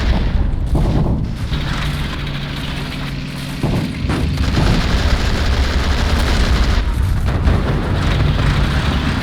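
Enemy tank cannon fire in a Men of War battle, heavy booming blasts rolling over a dense, continuous rumble of combat noise, loud and close, with no talk.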